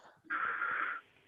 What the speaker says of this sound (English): He's whistling in his sleep.